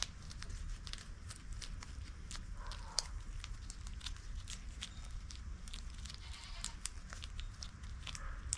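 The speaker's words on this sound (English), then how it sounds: "Shut up, goat!" A goat bleats in short repeated calls over a steady farmyard background, the animal fairly close, with faint shuffling around it.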